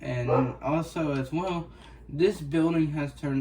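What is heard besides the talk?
No everyday noise stands out behind the speech.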